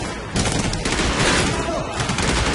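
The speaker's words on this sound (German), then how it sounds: "Wo schießen die da?" Gunfire in Medal of Honor Warfighter, a dense fusillade of rapid shots that bursts in after a quieter moment and rattles on continuously, loud and close, with a voice murmuring beneath.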